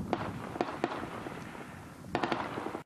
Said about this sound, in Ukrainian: Сразу одиночними стріляють, стрілковим, потім крупнішим.